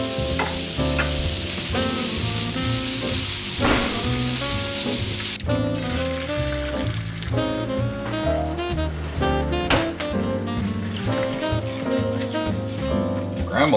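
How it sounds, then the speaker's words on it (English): Eggs sizzle and are stirred in a frying pan, a loud, steady hiss with scraping stirs throughout and a few brief knocks of the utensil. "Scramble them eggs."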